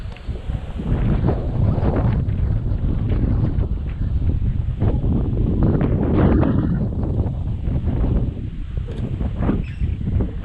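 Strong wind buffets continuously while river fishing, roaring and rumbling with gusty low-end bursts throughout, no voices.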